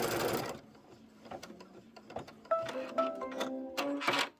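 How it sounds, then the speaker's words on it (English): A sewing machine stitches a placement tack-down line on a quilt block, starting with a quick burst, then a pause, then several short runs of rapid mechanical whirring and clicking close by. "the next thing that's going to get sewn down, this is a placement tack down line."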